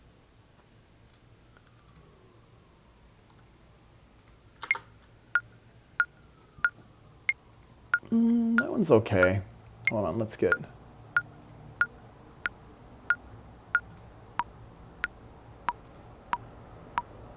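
A Pro Tools metronome click ticks steadily at a regular tempo, sharp and fairly faint, with a person talking and brief rustling partway through.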